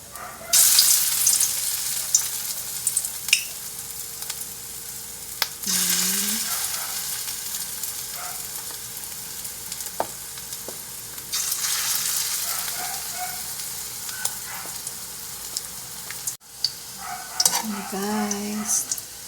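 Tuna balls fry in hot oil with a continuous broadband hiss that swells and eases, broken by occasional utensil taps and stirring scrapes close by.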